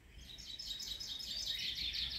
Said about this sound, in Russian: В вольере хорошо зяблик поет.